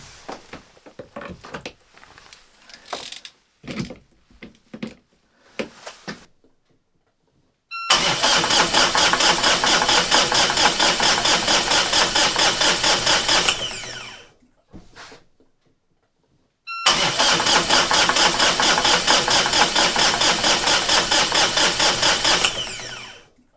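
Outboard boat engine at a Norwegian dock cranked in two long bursts of about six seconds each, loud and steady, separated by a short pause, after some clattering handling noises, without catching.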